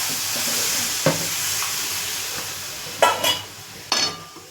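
Water splashes into chicken kosha curry sizzling in a pan, giving brief loud hissing bursts over a steady low fry, with a few scattered spoon and pan clinks.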